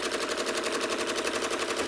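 A sewing machine runs steadily while stitching a curved seam on a small sewn project, its rapid even rattle continuous and fairly close throughout with no voices.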